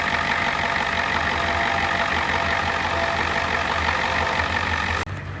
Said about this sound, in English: I'm gonna let that thing run for a little bit, get that coolant nice and hot.